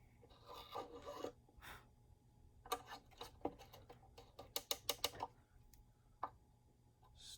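A steel reamer is turned backward inside a violin peg hole, giving soft, short raspy scrapes in scattered bursts with quiet pauses between, close up and alone.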